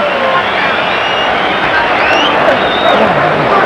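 Boxing arena crowd at a heavyweight bout between Tim Witherspoon and Frank Bruno, a steady loud roar of cheering spectators under a commentator's voice throughout.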